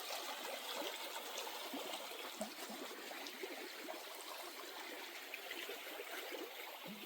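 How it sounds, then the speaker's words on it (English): Steady running water from a stream beside a campsite on the Appalachian Trail, a continuous close rushing and trickling wash with no voices. "Running water."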